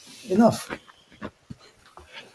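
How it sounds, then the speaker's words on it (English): A pest dog in a Greek village gives a short, loud bark-like burst near the start, close by, with people talking around and after it. "I've got this real pest dog here."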